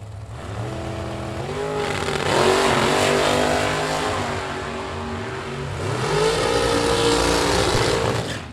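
A loud rear-engine dragster roars and revs at a bracket drag race, rising and falling in pitch as it accelerates, with a second surge of power near the end.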